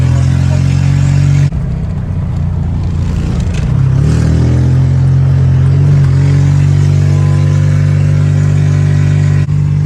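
A Microcar M.Go Highland X microcar engine drones loudly and steadily at full throttle, its pitch climbing only slowly with no speech.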